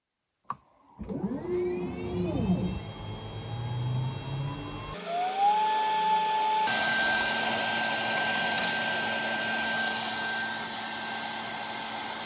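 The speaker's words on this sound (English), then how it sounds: "I want to see how it cuts plywood" A WeCreat Vision Pro 45W laser engraver cutting 5mm plywood, a steady high whir of fans and air assist with a rising motor tone, after a sharp click at the start.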